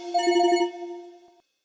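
A telephone rings once with a bright electronic tone that pulses briefly and then holds before cutting off, with nothing else heard.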